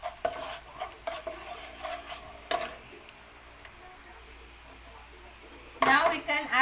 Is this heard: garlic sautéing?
yes